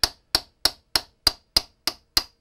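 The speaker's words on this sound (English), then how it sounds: "Tap this one out. Nice and gentle." Eight evenly spaced light metallic taps knock a part out of a waterblock plate resting on a flat piece of wood, each sharp click decaying quickly in a steady rhythm, close and clear with no talk.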